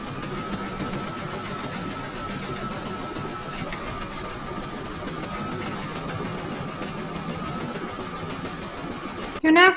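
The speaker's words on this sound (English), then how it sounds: "You're now going to stitch round number four, and that's going to do all the decorative stitching in the centre of the circle." A domestic embroidery machine stitches the decorative centre round of an in-the-hoop mandala placemat, a steady continuous motor hum with rapid needle rhythm running throughout, ending in a brief louder burst.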